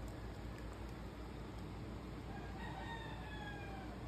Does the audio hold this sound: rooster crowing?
yes